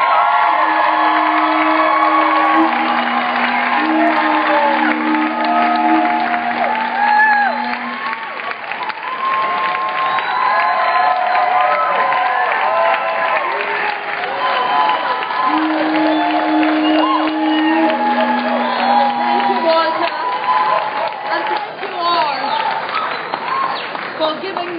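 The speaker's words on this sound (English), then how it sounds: "How about a huge round of applause for Vandana Shiva?" A large outdoor rally crowd at the Hawaii State Capitol applauds and cheers at length, with loud sustained clapping, whoops and shouts and a voice calling out over the noise.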